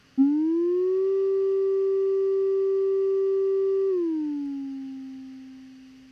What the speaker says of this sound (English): So the pitch is just going to rise and then fall.